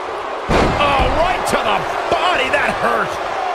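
A wrestler is slammed onto the ring mat at an indie wrestling show, giving a sharp, loud thud followed by more impacts while a commentator talks over the crowd.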